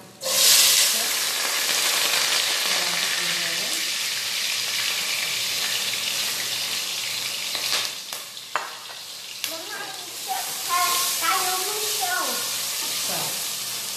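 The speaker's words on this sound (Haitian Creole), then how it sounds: "Je vais le tenir chaud, bien chaud. Je vais ajouter les oignons." Onions frying in hot extra virgin olive oil, a loud hissing sizzle that holds steady, with occasional stirring scrapes and a voice speaking over it near the end.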